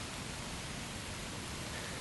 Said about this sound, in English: This rain coming down once again.